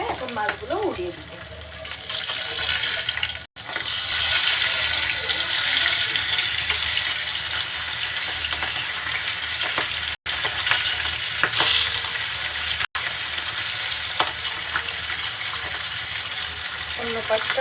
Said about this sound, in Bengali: প্রথমে মাছটা আমরা ভেজে নিব